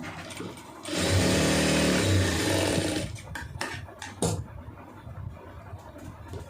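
A sewing machine stitches blouse fabric in a steady, loud whirring run of about two seconds, then stops, leaving quieter handling noises and a few soft clicks.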